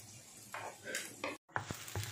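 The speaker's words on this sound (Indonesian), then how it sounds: "Tumis bawangnya kayak gini" Onions sautéing in a pan for mapo tofu, a soft sizzle with scraping stir strokes and light clinks of a utensil against the pan, brief pause midway, close and fairly quiet.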